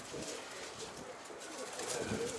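Soft, repeated throaty cooing of pigeons carries on continuously, close and moderately loud, with faint rustling underneath.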